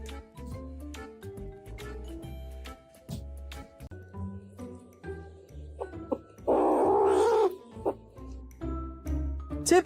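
An adult cat yowls and growls in a long rising caterwaul, loud and close, amid scattered tinkling sounds and brief background music.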